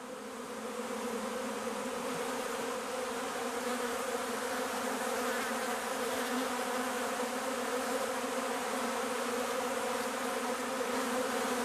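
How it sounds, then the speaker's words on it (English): A honeybee swarm with its queen rising from a box makes a dense, steady buzzing hum that holds even and fairly close for the whole stretch, with no voices. "The swarm, with the queen in its midst, rises from the box and continues its journey to a new,"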